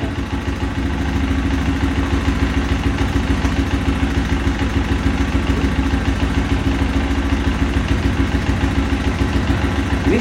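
A Honda CRF 150 dirt bike engine idles roughly with a steady, loud clattery chug that stays constant and close throughout, with no voices.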